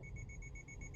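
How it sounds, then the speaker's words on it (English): Continuous rapid beeping from a Subaru EyeSight pre-collision warning in a 2024 WRX with a manual gearbox, an evenly pulsed electronic tone that sounds alone over a low cabin rumble. "the alert changes to a continuous beeping sound and strong braking control is activated"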